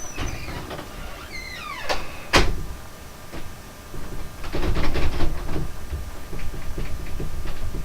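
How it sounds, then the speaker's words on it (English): A household door is handled and locked, with a series of sharp metallic clicks and knocks from the latch and handle followed by softer rattling and shuffling close by. "I'm going to lock the door."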